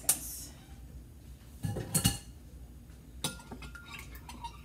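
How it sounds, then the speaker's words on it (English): A spoon clinks and scrapes against the glass while stirring a thick, concentrated tamarind juice drink, a few close bright taps and swirls bunched together with quieter gaps between, no talking. "And we'll stir our drink."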